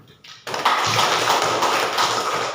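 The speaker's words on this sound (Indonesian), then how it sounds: "Kita tepuk tangan dulu." Children in a classroom clapping their hands together, a sudden dense burst of close, loud clapping that starts after a brief quiet moment and carries on steadily.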